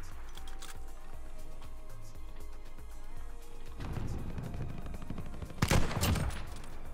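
Video game machine gun fire crackles in a quick rattling burst, with faint rhythmic thumps beforehand and a louder cluster of shots near the end, all moderately quiet.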